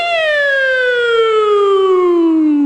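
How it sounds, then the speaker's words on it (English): A police car siren plays as a single loud, steady wail that slides smoothly downward in pitch for almost three seconds. Nothing else is heard alongside it. "They have that nice soothing siren."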